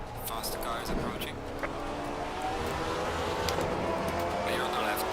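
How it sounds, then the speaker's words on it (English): Race car engine noise in Assetto Corsa Competizione at Kyalami, a Maserati MC GT4 in multiclass traffic, with a faster car closing in; steady engine drone runs under a talking voice throughout. "Faster car is approaching."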